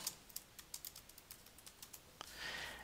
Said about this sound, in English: I'm now going to go ahead and type in the text that I want.